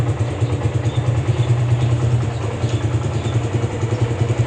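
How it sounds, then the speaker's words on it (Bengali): A motorcycle engine runs steadily close by with a low, throbbing idle and some mechanical clatter, its RPM creeping upward, as happens when the bike's revs climb while the handlebar is turned; no one speaks. "আমি একটু স্টার্ট দিয়ে দেখাই। এই যে আমার বাইকের আরপিএম এখন আছে"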